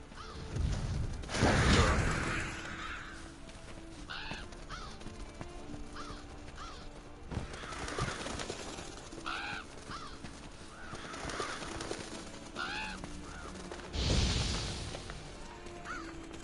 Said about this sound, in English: Seems the black birds are the culprits. Revoltures. They're scavenger birds that enjoy large monsters' leftovers.